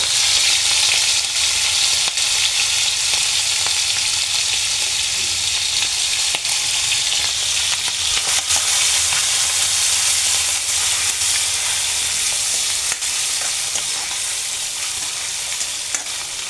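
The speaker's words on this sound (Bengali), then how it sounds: "আমি ওই তেলের মধ্যে এখন দিয়ে দেব চিংড়িগুলো। চিংড়িগুলো আমি একটু ফ্রাই করে নেব।" Prawns fry in oil for mixed fried rice, giving a loud, steady, close sizzle that holds unbroken for the full stretch.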